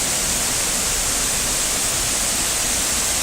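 Waterfall at Watkins Glen heard up close: a dense, loud, unbroken roar of falling water, steady throughout with no voices over it.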